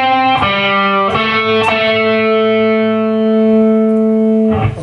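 Electric guitar plays a pentatonic lick built on unison bends, sustained distorted notes with reverb, several struck notes ringing out and bending, no speech.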